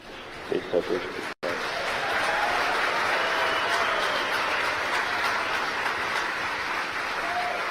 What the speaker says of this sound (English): You hear the applause in the background here in Hawthorne.